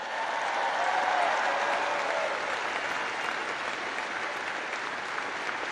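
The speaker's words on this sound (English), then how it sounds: "let's give a big round of applause to your incredible parents" Sustained crowd applause fills a university commencement ceremony at the University of Alabama, a steady, dense wash of clapping from a large audience that swells early and then holds evenly throughout.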